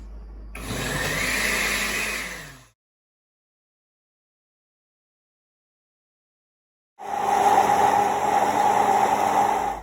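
An electric blender blending a fruit smoothie with frozen fruit, a loud steady whirring roar that runs for about two seconds, cuts to silence, then starts again and runs to the end.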